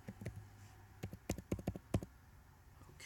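Someone types a short word on a computer keyboard, a quick cluster of crisp key clicks over a low steady room hum, with no talking.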